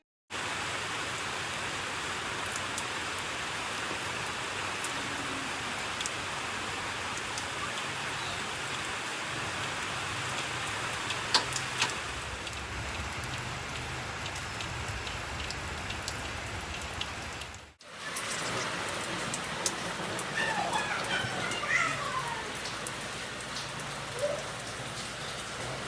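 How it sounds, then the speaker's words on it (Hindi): Steady light drizzle falls continuously, an even hiss of raindrops on surfaces near a village home, with a short dip partway through before the soft patter resumes at the same level. "आज बारिश बंद ही नहीं हो रही है, ऐसी बूंदाबांदी सुबह से हो रही है"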